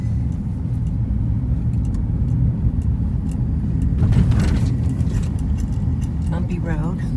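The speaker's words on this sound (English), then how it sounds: "Bumpy road." Car rolling over a bumpy road at Fort Worden State Park, a continuous loud low rumble with rattling and clattering jolts, a voice speaking briefly near the end.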